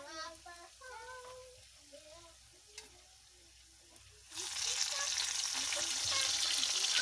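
Bananas cook in sugar in a pan. After a few seconds of quiet stirring, a loud, dense sizzle of frying sets in and carries on steadily, close up.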